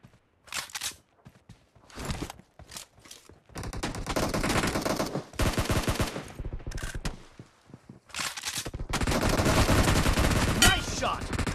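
Gunfire in PUBG Mobile, with loud bursts of automatic fire separated by short pauses and sustained stretches of rapid shots close by, with no talk.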